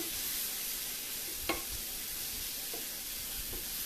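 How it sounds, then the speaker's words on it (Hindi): Apple cider vinegar hitting a hot pan as it is deglazed, a steady broadband sizzle and hiss throughout with a few faint clinks of stirring, no talking. "इससे मैं डीग्लेस कर रहा हूँ।"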